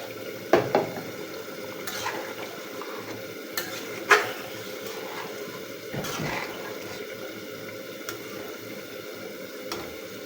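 A spoon stirs fish curry in a pot as thin broth is poured in, with scattered clinks of utensil against metal and light bubbling and sizzling at moderate closeness; no one speaks.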